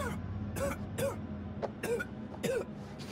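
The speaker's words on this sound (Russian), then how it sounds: "Нехороший кашель." A man coughs repeatedly in the video game House of Ashes, a run of about five close, harsh, wet coughs spaced roughly half a second apart with raspy breaths between them.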